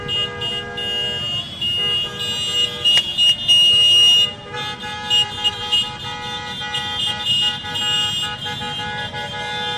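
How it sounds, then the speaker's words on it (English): A car horn fitted on a BMW motorcycle sounds in a series of short and longer honks over the rumble of traffic and a noisy outdoor parade crowd. "That BMW motorcycle had a car horn."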